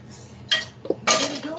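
Chopped onions tipped into a saucepan of olive oil during a cooking class, giving two short bursts of clattering and scraping a half second apart, close and moderately loud, with faint room noise between them.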